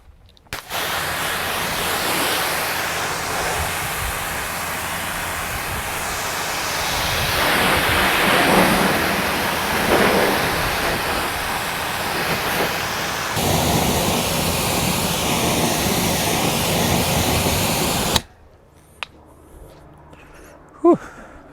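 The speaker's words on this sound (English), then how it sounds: "So yeah, I'm gonna start rinsing the van, not with a 15-degree nozzle." Pressure washer with a 25-degree nozzle rinsing down a van, a steady loud broadband spray hiss that swells and shifts in tone as the jet moves across panels, then cuts off abruptly near the end leaving a few faint clicks.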